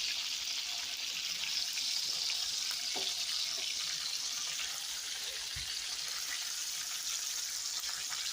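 Lamb chops fry in a pan with a steady close sizzle and crackle, a faint clink or two over a constant hiss and no talk.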